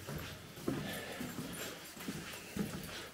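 A mine dog trots through the tunnels of the Maenofferen slate mine, its collar jingling in a loose rhythm of soft metallic taps and footfalls against a hollow underground background.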